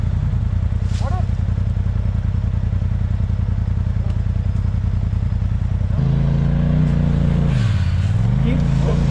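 A quad ATV's engine revs hard and drones steadily while its wheels spin on rock on a rough mountain trail, loud and close, with one rising and falling rev near the end.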